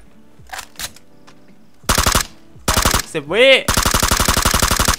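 Automatic rifle fire in the battle royale game PUBG comes as short early taps and then long rapid bursts close up, broken once by a brief whooshing sweep, with a voice talking in between.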